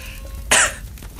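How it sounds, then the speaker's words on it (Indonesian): One short, sharp cough sounds close by, abrupt against a quiet, low background hum. "batuk ada deh"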